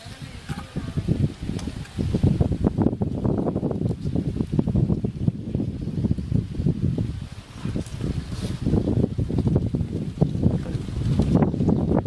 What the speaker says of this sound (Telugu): వస్తూనే ఉంది గాలి